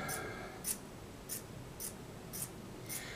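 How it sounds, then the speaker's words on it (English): Small scissors snip through a furnace filter in about six evenly spaced crisp cuts, close and clear over a quiet background. "Now I'll use a smaller pair of scissors and we'll go in and cut these up like this."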